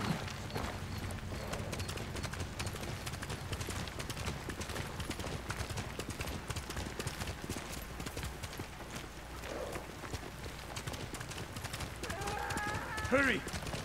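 Rhythmic clip-clop of a horse's hooves at speed in the Ghost of Tsushima video game, a steady close drumming that runs throughout, with faint game sounds near the end.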